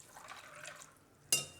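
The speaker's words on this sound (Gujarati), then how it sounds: "કાજુને આપણે આ રીતે વાટકાના લેવાના ને થોડાક ધોઈ નાખવાના" Cashews being rinsed with water in a bowl: soft liquid swishing and trickling through most of the stretch, then a brief splash of water near the end, close and fairly quiet.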